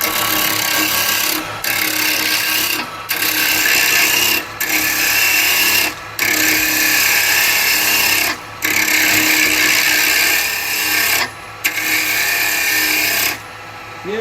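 A wood lathe spins at just over 2,000 RPM while carbide chisels cut a very dry elm burl. A loud, continuous hissing scrape is broken by brief gaps as the tool lifts off the wood.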